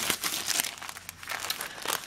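Glassine pocket bag crinkled by hand, a steady papery crackle with bursts of sharper crinkles, close and fairly soft, heard alone with no talking.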